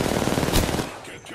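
Dense, continuous enemy gunfire in a video game, close and loud for about a second before thinning into a trailing rumble.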